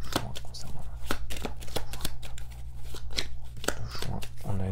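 Tarot cards shuffled by hand for a reading, a steady run of crisp riffling snaps and slides close up, with a faint low hum underneath and no talking.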